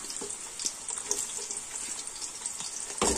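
Onions going into a small bowl of hot oil for chicken biryani, giving a steady close sizzle of frying throughout with occasional sharper crackles and a louder burst near the end, no talk.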